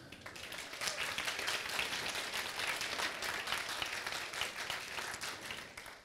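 An audience claps at the Iasi Business Days 2015 business conference, a dense, even burst of applause from a crowd that holds steady for several seconds, heard from a distance and fairly quiet.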